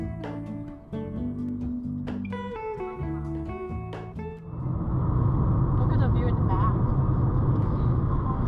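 A car drives off the road into the woods on the way to a glamping site. Voices come first, then a loud, steady rumble of tyres and engine takes over midway.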